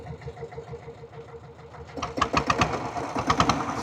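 A diesel Bullet motorcycle engine starts up and runs with a rapid, knocking, thumping idle, close and steady after a quieter lead-in.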